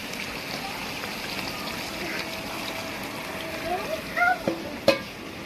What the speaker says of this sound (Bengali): মাংস খুব ভালোভাবে কষানো হয়ে গেছে এখন এর মধ্যে জল দিয়ে দেবে